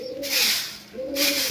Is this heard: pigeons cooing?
yes